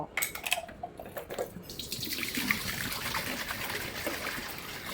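Magnetically treated water runs out of a pipe in a steady splashing, trickling stream, with a few sharp clatters and drips at the start before settling into a continuous close pour.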